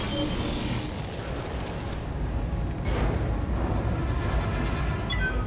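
A destroyed mech explodes in the BattleTech video game, a broad, rumbling blast with a swelling burst near the middle, dense and loud throughout with no talk.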